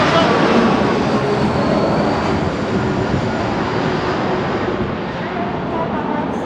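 A low-flying airplane passes overhead at a designer outlet mall, producing a loud, continuous broadband roar that fills the whole stretch and fades only slightly toward the end.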